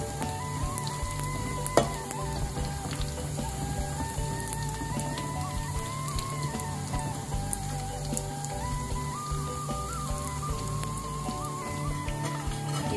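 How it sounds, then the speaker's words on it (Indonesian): Eel frying in hot oil over medium heat until crisp, a steady dense sizzle with crackling pops throughout, close and continuous, with no talking. "Kita goreng sampai kering."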